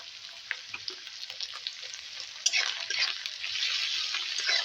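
Onions sautéing slowly in oil over low heat for a fish curry, a steady soft sizzle with small crackles that grows a little fuller partway through, close and moderately quiet with no talking.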